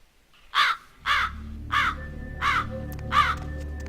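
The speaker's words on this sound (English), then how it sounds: "Oh, shush, you little raven." A raven in the video game Vampire: The Masquerade – Bloodlines gives five loud, harsh caws at a steady, evenly spaced rhythm, close by, over a low ambient hum.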